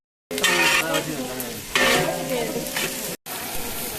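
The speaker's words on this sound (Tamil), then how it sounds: "பிரியாணிக்கு வெங்காயம், பட்டை, கிராம்பு, பச்சை மிளகாய் எல்லாத்தையும் போட்டு வதக்குறாங்க" Onions, cinnamon, cloves and green chilies sautéing in oil for biryani, a steady loud sizzle with stirring scrapes that swells twice, close up, broken by a brief cut near the end.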